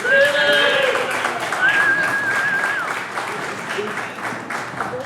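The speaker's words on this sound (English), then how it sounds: "Please give a huge round of applause for Jason Duby." A pub comedy-night crowd bursts into sustained, loud applause for comedian Jason Duby, with scattered whoops and whistles and a host's voice talking over the clapping as it slowly tapers.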